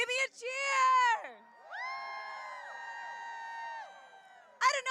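A crowd at a pro-life rally outside the Supreme Court cheers and whoops with long, sustained voices, then a fresh burst of shouts rises at the end.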